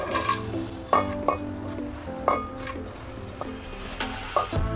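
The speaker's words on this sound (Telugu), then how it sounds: "దీంట్లో కరివేపాకు మొత్తం వేసుకోవాలి." Curry leaves fry in a large pot of oil to make a homemade hair oil, with a steady close sizzle broken by several clinking scrapes of a spoon stirring against the metal vessel, and no talking.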